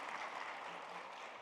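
Church congregation clapping together during an early-morning prayer service, a steady, even patter that fills the room without any voices over it.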